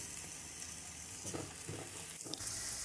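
Garlic ginger paste fries with lightly browned onions for Punjabi rajma masala, giving a faint, steady sizzle with a few soft stirring clatters and no talk.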